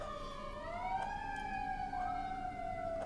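Emergency sirens from an ambulance and fire truck wail steadily, their tones sliding up and down as they sound close by, with no talk over them.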